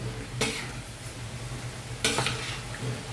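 A pickle mixture is stirred in an oily pan, with two distinct scraping spoon strokes over a soft, constant sizzle, close and without talk.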